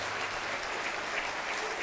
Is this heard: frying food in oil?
no